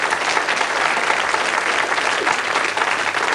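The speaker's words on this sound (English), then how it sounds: "Give him another round of applause." Studio audience applause at a 1987 Blockbusters game show, a steady dense clapping from a crowd that holds even and fairly loud throughout, with no voices over it.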